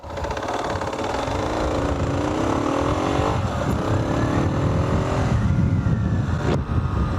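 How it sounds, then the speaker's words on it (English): A Kawasaki KLR 650 motorcycle at 40,000 km riding on a loose gravel road, its engine a steady, loud, continuous drone with wind rush and crunching gravel throughout, no talk. "I like the way the bike handles on gravel roads,"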